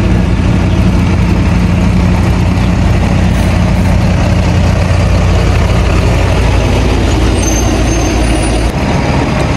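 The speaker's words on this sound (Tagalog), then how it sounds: "dumating na truck, ang ingay" A loud, close truck engine idles in a continuous heavy rumble, filling the whole stretch with broadband noise and no speech.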